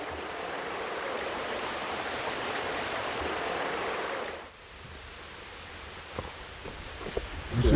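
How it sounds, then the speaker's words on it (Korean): Clear mountain stream water rushes steadily, a broad hiss that drops away abruptly midway, leaving quieter trickling and a few faint knocks and steps. "다시 맑아진 청정 계곡물이 파이프를 타고 산 아래로 흐르기 시작한다"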